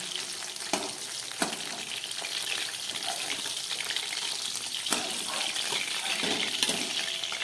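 Katla fish sizzles and crackles steadily in hot oil over low heat, a continuous close frying hiss with occasional sharp clicks of a utensil.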